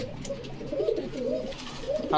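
A Spanish pouter pigeon coos in low, rolling phrases close by, with repeated soft throaty calls over faint background noise.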